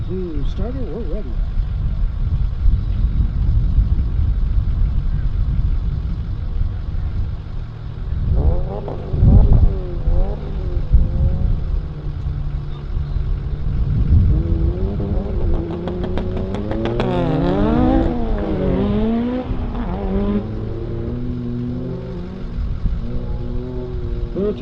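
Drag racing cars at a strip, including a street-tired BMW, idle and then launch with rising, warbling engine revs that climb and sweep upward in pitch, fairly close and loud over a steady rumble.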